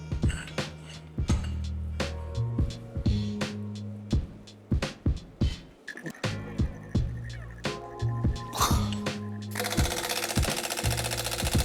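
A wrench hammers at the crank hub bolt on a BMW M4 S55 engine in a series of sharp, loud mechanical bursts with brief pauses between them, ending in a sustained whirring rattle.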